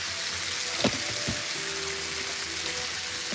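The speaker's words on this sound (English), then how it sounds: "Alright, we sizzling," Close, steady sizzling of thick-cut bacon frying in a pan, with a couple of soft knocks and pops.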